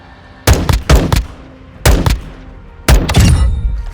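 Three-shot bursts from a 5.56 assault rifle with a 20-inch barrel in Modern Warfare 2, with four sharp, loud bursts of closely spaced cracks separated by short pauses and no talking.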